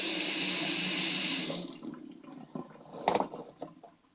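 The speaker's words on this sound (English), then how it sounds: "we'll use hot and cold water, and you'll be able to see it happen." Tap water runs steadily from a faucet into a sink, a loud broadband rush that stops abruptly partway through, leaving faint drips and small splashes afterward.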